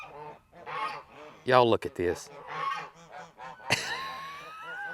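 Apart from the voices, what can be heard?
geese honking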